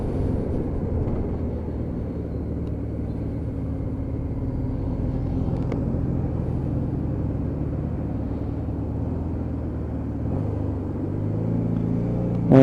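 A Honda Deauville motorcycle engine hums steadily while riding round roundabouts, a low continuous rumble with mild pitch changes as the throttle eases and picks up near the end.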